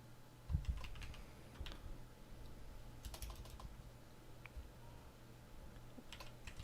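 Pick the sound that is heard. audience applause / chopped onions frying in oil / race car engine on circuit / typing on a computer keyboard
typing on a computer keyboard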